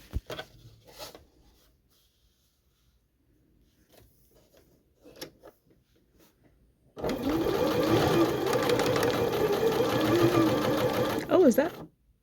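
A Janome JW8100 sewing machine stitching in a loud, steady whir that starts after several seconds of quiet handling and soft talk, running for about five seconds before stopping.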